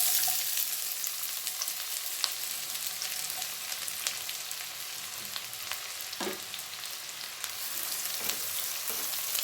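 Ginger and green chillies sizzle in hot oil in a pan for an Andhra-style fish curry, a steady dense crackle throughout with a few louder pops and spatters.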